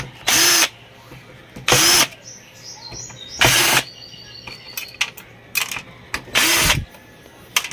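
A power drill takes screws out of a TV set during a repair, whirring in five or six short loud bursts separated by brief gaps filled with faint handling clicks.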